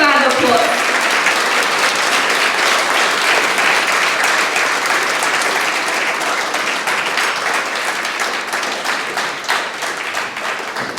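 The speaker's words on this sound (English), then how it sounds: "Please give him a big round of applause." Audience applause greets an author at the launch of his book on Hazara prodigies, a full, loud burst of clapping that starts abruptly and slowly thins over about ten seconds.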